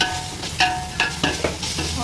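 A spoonful of ginger garlic paste sizzling in a pan for Chettinad biryani, steady frying hiss broken by several quick scraping stirs, close up with no talking.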